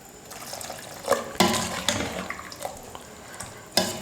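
Water is poured into mushroom kootu in a cooking pot, giving a gurgling, splashing pour with a few louder splashes against low background noise.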